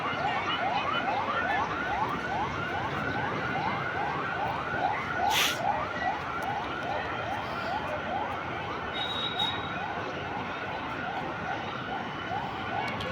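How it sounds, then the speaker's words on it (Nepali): A siren near a crowded fair in Balaju, Kathmandu wails continuously in rapid, regular rising sweeps, steady and moderately loud, over a busy background murmur. "साइरन बजार मात्रै बसिरहेको छ त जानै सक्दैन"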